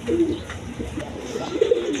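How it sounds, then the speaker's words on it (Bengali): Bombay pigeons coo nearby in low, throaty, repeated bursts, close and fairly loud, with no one talking. "দর্শক এখানে এক পেয়ার বোম্বাই কবুতর আছে"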